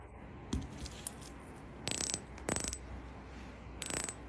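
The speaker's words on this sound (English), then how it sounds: "This one from Versus Factory has a very tactile feel when rotating, and the sound is more pronounced." A Versus Factory dive watch bezel turned one way, giving three short bursts of rapid ratcheting clicks with light taps between them, close and crisp against a quiet background.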